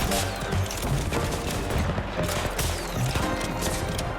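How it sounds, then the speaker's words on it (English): The Wrist Rocket ability fires in the Roblox game War Machines, a dense, continuous barrage of loud, rapid explosive bursts that roll together like a fusillade from start to finish. "here's what the Wrist Rocket does"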